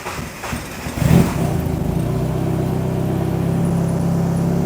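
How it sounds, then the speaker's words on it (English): A 1990–2000 Mazda Miata engine starts after new spark plugs and wires are fitted: a short cranking burst, then it catches and settles into a steady, even idle, loud and close. "And then we could go see if our car starts right up."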